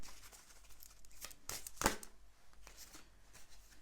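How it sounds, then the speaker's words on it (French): A final tarot card slid and flipped from a deck, giving soft papery shuffles and rustles with one sharper snap near the middle, close and quiet with no talking. "une dernière petite carte pour terminer votre petit tirage"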